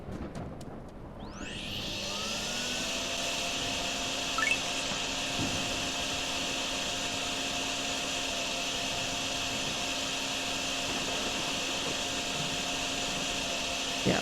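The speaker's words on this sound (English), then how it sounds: "I think I can do this with just my shop vac" A shop vac in the video game DrainSim starts up with a rising whine, then drones loudly and steadily while sucking up water, with a couple of faint knocks partway through and no voices.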